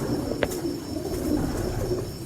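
A champion breeding pigeon coos softly nearby amid low background hum, with one brief higher call standing out early.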